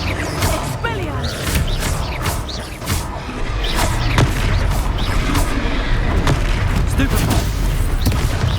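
The Expelliarmus disarming spell in Hogwarts Legacy crackles through a duel as a string of sharp magical bursts and impacts, loud and close, layered over continuous rumbling combat effects.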